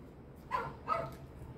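A puppy gives two quick, soft barks close together, faint over a quiet background.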